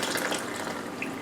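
Water runs steadily over tumbled crystals held in a sifter while they are rinsed, giving a continuous close hiss and splash with no talk.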